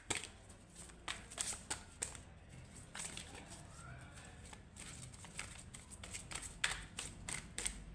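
Tarot cards shuffled by hand make quiet, close riffles and soft slaps in irregular bursts, with brief pauses between flurries.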